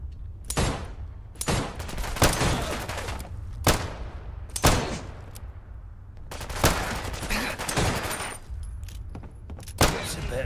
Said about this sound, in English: He's got that heavy machine gun.